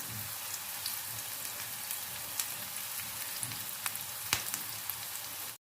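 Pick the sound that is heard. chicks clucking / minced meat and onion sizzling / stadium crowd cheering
minced meat and onion sizzling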